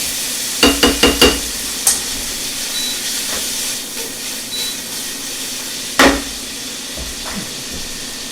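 Bacon fries in a pan with a steady, loud hiss and sizzle throughout, broken early by a quick run of sharp clicks and clacks, likely a utensil against the pan, and a louder knock near the end.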